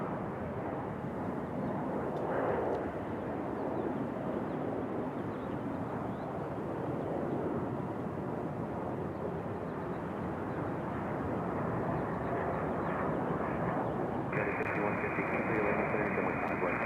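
A small executive jet takes off at Raleigh-Durham, its continuous engine roar steady and fairly loud throughout, with a brief tonal sound near the end.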